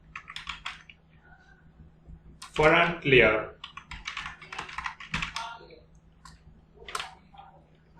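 Computer keyboard typing while code is written, with quick irregular key clicks in bursts interleaved with someone talking in Hindi.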